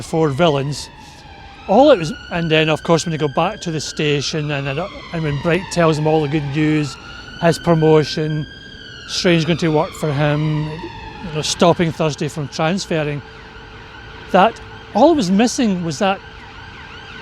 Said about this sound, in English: You can hear an ambulance going by